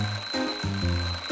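An alarm clock rings in rapid repeated bursts of bright bell tone, loud and close, with brief gaps between the ringing pulses.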